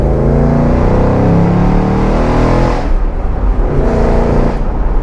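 A 2024 Ford Mustang GT V8 with nearly 500 horsepower roars loudly as it accelerates up a steep Vancouver city hill, a sustained close engine drone that eases briefly and swells again, with no talking.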